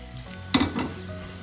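Onions and chopped tomato sauté in a pan for a buffalo meat varattu, a soft steady sizzle with a brief stir scrape near the middle, close and fairly quiet with no voices.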